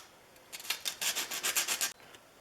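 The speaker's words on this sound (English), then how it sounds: "I finish the slots with some tight fitting sandpaper" Folded 150 grit sandpaper rubs by hand through the slots of a Stanley No. 20 1/2 circular plane, a quick series of about ten close, raspy back-and-forth strokes.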